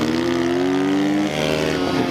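Sherco 300 SEF-R dirt bike engine pulling hard while ridden on a trail, a loud, close, continuous drone with revs climbing then dipping briefly, no voices.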